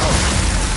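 In Hogwarts Legacy, the Glacius freezing spell bursts out as a short, loud, crackling whoosh with a crunching icy texture.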